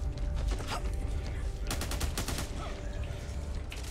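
Rapid automatic gunfire in the zombie shooter game Back 4 Blood, dense bursts of shots close and loud over a background of game ambience, with a brief pause between volleys.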